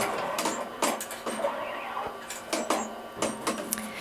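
Melco embroidery machine trimming its design thread: a string of quiet, sharp mechanical clicks and clacks in irregular bursts, with faint motor whir between them, up close and without talk.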